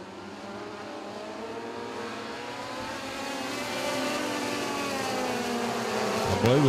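Race cars roar around a dirt speedway in a Hot Shots feature, several engines droning and revving together, growing louder as the pack approaches and sweeping past near the end.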